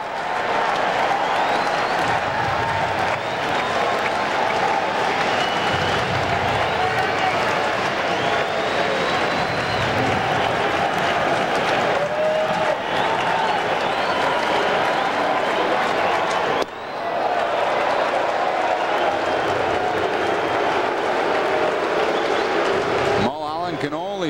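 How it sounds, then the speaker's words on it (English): A baseball stadium crowd at a Braves–Reds game stirs and murmurs with building energy, a loud continuous wash of chatter and cheering under play-by-play commentary. "This crowd starting to rustle around a bit, showing some energy"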